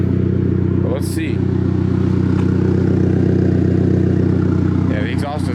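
A turbocharged Honda Accord engine idles steadily and close by, a constant even hum with a fine rhythmic pulse, while a few brief clicks and clatters come and go.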